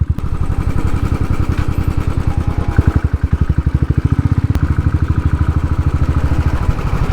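A Royal Enfield Thunderbird motorcycle thumps along on a ride, its engine beating loud and close in a steady, rapid single-cylinder pulse with little change in pace.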